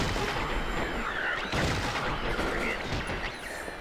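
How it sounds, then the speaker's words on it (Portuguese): Bursts of gunfire and booms from Silent Hill 3 repeat over a busy, noisy backdrop, with a speaking voice partly underneath. "Esse é o tiro nele, ó."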